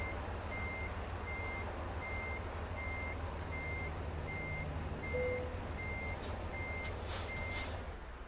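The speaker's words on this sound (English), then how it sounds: "I gotta see if I can turn off that freaking reverse beeper." Evenly spaced reverse beeps from a truck backing up in American Truck Simulator, repeating steadily over a low engine drone, with a short hiss of air near the end.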